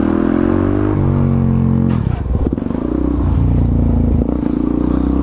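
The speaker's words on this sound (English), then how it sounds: "That was a pretty intense scrape right there." A supermoto motorcycle doing a slow wheelie, its engine droning loudly and steadily before the rear scrapes the ground with a harsh grinding clatter, then the engine settles back into a steady drone.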